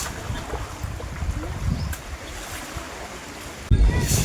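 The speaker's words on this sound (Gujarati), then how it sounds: "આખા રસ્તામાં પાણી પાણી જાય" Floodwater rushes along a road in a steady broadband wash, like a current flowing past, with wind-like noise and a sudden louder burst near the end.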